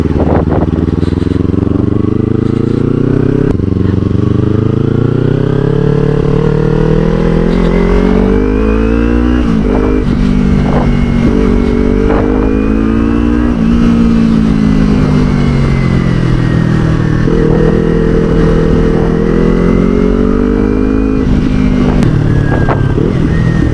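A Kawasaki Ninja 300 motorcycle drones loudly and steadily throughout a ride, its engine pitch rising and falling with gear and throttle changes as the rider eases off to slow down.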